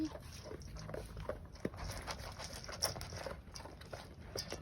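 A Great Dane dog eats its food close by, with steady wet chewing, lapping and soft patter running through the whole stretch and no talk.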